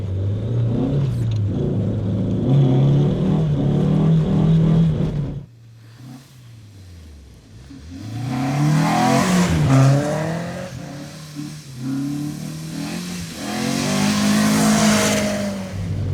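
Nissan Silvia S15 engine revving loudly while driving, with rising and falling rpm sweeps, a brief lull midway, then hard acceleration and possible tire noise close up.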